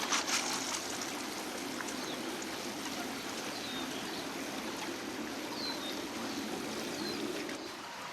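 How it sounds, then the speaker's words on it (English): Pond water from a koi pond is poured onto a newly planted avocado tree, a steady splashing trickle running for several seconds, close and moderately loud with no one talking. "Put in some fish water in there."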